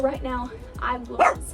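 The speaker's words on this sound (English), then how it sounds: "Sorry about my dog" A dog barks and yips several times in a row, close and loud, mixed in with someone talking.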